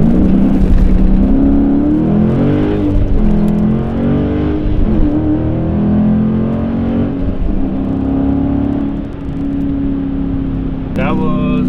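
Car launching hard and accelerating 0-60 with wheel spin, a loud engine note rising through the gears with a sweeping pitch climb and a brief drop at a shift, while people talk over it.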